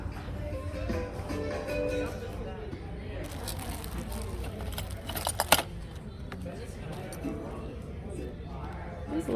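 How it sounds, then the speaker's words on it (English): Keys jangle in a small leather key pouch, with a brief metallic clinking burst amid steady handling noise and background bustle, fairly quiet and close. "There's a little leather pouch for keys."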